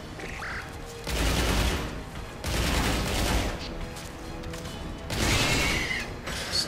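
Automatic turrets trade bursts of gunfire in the video game Escape from Butcher Bay, with three loud, dense volleys separated by quieter stretches of game noise.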